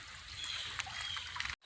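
Waterfall on a hillside stream dropping off a hill on rural property in Dennard, Arkansas, a steady broadband rush of falling water, fairly close and continuous, with a few brief knocks over it.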